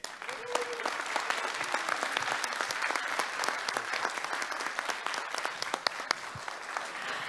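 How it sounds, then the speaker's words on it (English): An audience at an academic conference applauds, a dense, steady clatter of many hands clapping at moderate distance that carries on for several seconds without letting up. "please give another big round of applause for our team from Turkey"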